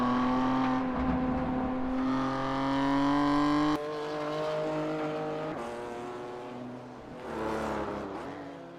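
A BMW M2 Cup race car screams at high revs, its engine note climbing, then dropping sharply through downshifts with abrupt rev changes. A brief rise in pitch comes near the end, loud and close, as if heard from onboard.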